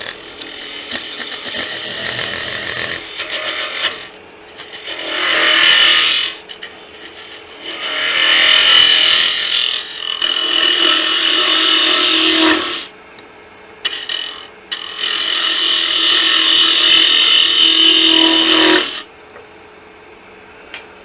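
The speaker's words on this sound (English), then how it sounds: "this is another excuse for us to use that ball mill hollowing tool we made" A homemade ball mill hollowing tool cuts into wood on a lathe, hollowing the bottom of a turned Christmas tree box, in loud rasping bursts of several seconds separated by brief pauses, close and without talk.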